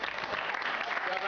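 Applause in a French TV football studio, a brief burst of steady clapping from a small audience, fairly loud and continuous throughout.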